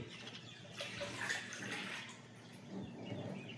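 Irrigation water flows and gurgles steadily at a low level into a muskmelon field outdoors, a soft continuous rushing without voices.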